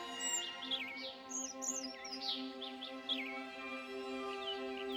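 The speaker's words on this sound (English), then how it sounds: "The birds were tweeting." Small birds chirp and tweet in quick, scattered bursts over a steady hum, with several calls overlapping at a moderate distance.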